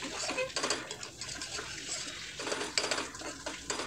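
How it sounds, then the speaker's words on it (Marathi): A spoon scrapes and clinks against a pan while dry coconut masala is stirred into mutton, giving irregular metallic scraping and tapping strokes at close range. "हे व्यवस्थित त्याच्यामध्ये मिक्स करून घेऊया चांगलं."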